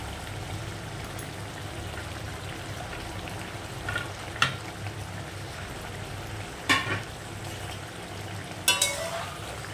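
A Bengali curry of rohu fish and ridge gourd simmers in a pot, a soft continuous bubbling hiss with a few sharper clinks and stirs standing out now and then, all fairly quiet and without voices.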